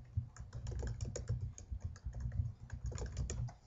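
Rapid typing on a computer keyboard while a password is entered for a new forum account, a steady run of close, crisp key clicks with no talking.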